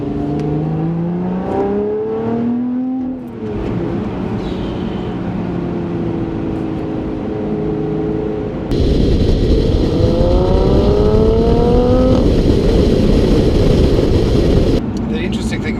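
A Lotus Evora Sport 410 accelerates hard in second gear, its engine note climbing through loud, close revs in the cabin with a sharp jump in intensity partway, while someone talks over it.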